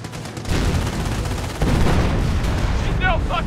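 Heavy gunfire rattles through a World War II battle in the strategy game Company of Heroes, rapid overlapping shots and bursts growing denser, with a brief shouted voice near the end.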